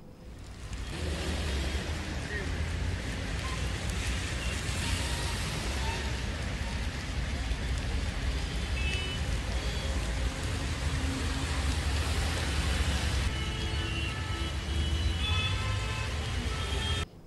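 Heavy monsoon rain falls in a continuous, dense roar in Delhi, with traffic rumbling underneath and a voice talking over it.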